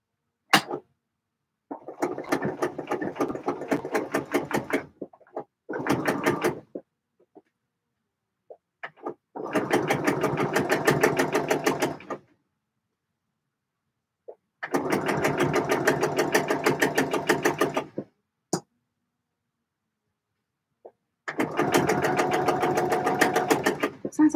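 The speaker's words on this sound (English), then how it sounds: "Let's wrestle this onto the sewing machine" A sewing machine stitches a coat in four or five loud, steady bursts of several seconds each, separated by quiet pauses, with no talking over it.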